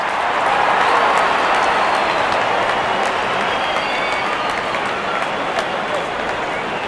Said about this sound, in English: The crowd is enjoying every bit of this action.